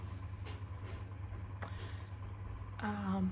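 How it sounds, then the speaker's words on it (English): A car engine idles roughly, giving a steady low rumble that runs through the whole stretch, with a few faint clicks and a brief tonal sound near the end. "her car does not sound good"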